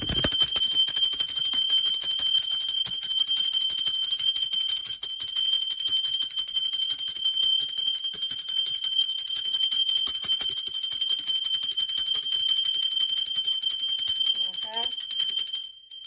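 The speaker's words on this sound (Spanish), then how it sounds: "va campana" A bell rung during a tarot reading gives a loud, pure ringing tone that holds steady for about sixteen seconds before cutting off abruptly.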